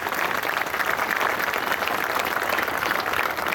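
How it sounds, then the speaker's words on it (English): Steady crowd applause fills the air at a veterans memorial ride opening ceremony, dense clapping sustained evenly and fairly close throughout. "Give Ambra a round of applause for all they have done for 20 years."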